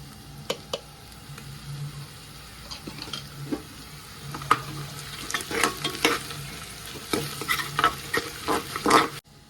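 Mutton paya masala frying in oil in a home kitchen, a steady close sizzle with repeated scraping stirs and clinks of a spoon against the pan, no talking.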